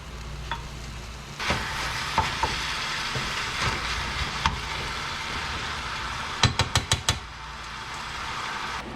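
Ground beef and onions fry in a pan with a steady sizzle, broken by a few clicks and knocks from stirring and a quick run of sharp taps near the end.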